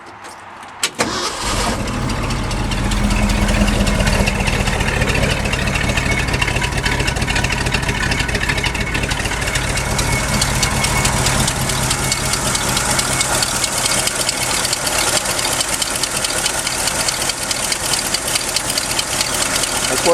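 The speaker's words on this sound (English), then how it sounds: "So let's start up." A 1974 Ford F250 Ranger XLT 4x4 long bed truck engine cranks briefly, catches and settles into a loud, steady rough idle with a faint knock, heard close for about twenty seconds.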